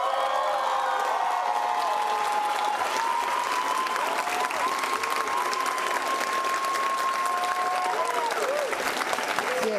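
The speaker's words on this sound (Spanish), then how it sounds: "hay que aplaudirla" A large audience applauds and cheers for a singer, with steady dense clapping, whoops and shouts from the crowd, and sustained tones under the noise throughout.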